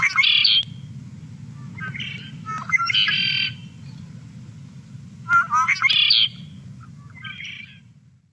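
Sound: red-winged blackbird call

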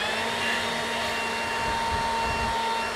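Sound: small Batman portable fan blowing air

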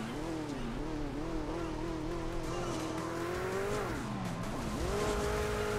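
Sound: car engine and tires in Hill Climb Racing 2 video game

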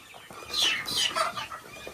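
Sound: young chickens clucking in a barn

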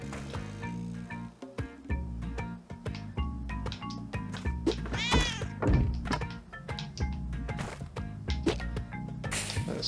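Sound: cat meowing in Spelunky 2 video game

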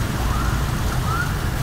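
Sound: rain falling outside

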